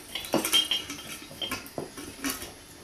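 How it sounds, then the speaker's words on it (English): A metal lid being screwed onto a glass jam jar fitted with wires gives off a few close, scattered clinks and scrapes, with no voices. "You screw the lid on."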